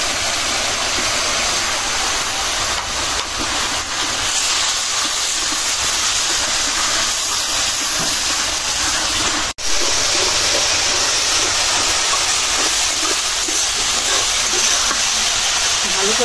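Spices sizzling steadily in a hot pan for a sour-spicy taro-stolon and tengra fish curry, a continuous loud frying hiss with one brief break partway through, and someone speaks.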